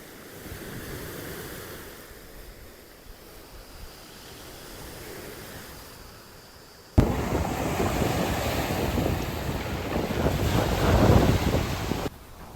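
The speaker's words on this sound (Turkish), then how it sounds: "Rüzgardan dolayı gördüğünüz gibi biraz fazla dalga var." Wind rushes across the microphone over the wash of sea waves on a rocky shore in Foça, Turkey, growing sharply louder and rougher partway through before dropping off at the end.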